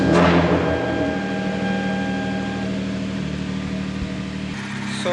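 A Genesis Coupe engine, rebuilt after a blown motor, runs with a steady, even idling hum close by, with a brief knock near the start.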